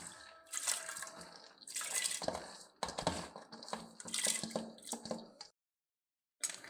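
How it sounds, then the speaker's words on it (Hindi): Mash lentils tipped into hot water make several wet, splashy bursts and sloshes in quick succession, then a brief silence and one more splash. "अब इसके अंदर हम दाल डाल देंगे।"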